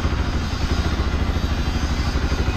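A motorcycle engine is being started after a coil change, giving a loud, close, rough rhythmic chugging and clatter that keeps running throughout.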